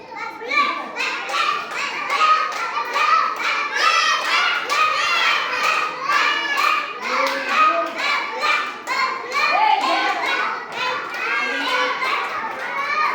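A group of children claps hands amid lively excited chatter and shouting, the rapid uneven claps mixing with many young voices throughout.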